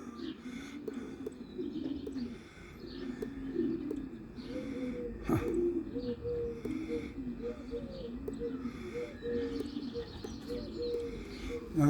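Racing pigeons at a home loft cooing continuously, a low rolling series of coos close by with faint chirps and background outdoor noise, no talk.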